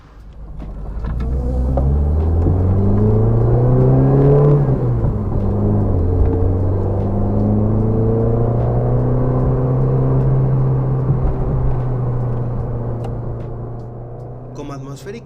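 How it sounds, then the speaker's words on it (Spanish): A Peugeot 205 Roland Garros engine revs up while driving, pitch climbing to a peak, dipping, then holding a steady high drone, with the engine note loud and close and a voice talking over it. "el motor hay que llevarlo alto de vueltas para que dé lo mejor de sí"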